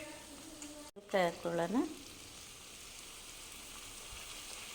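Sliced bitter gourd with turmeric fries in hot oil, a steady low sizzle running underneath, briefly interrupted by a short spoken phrase early on.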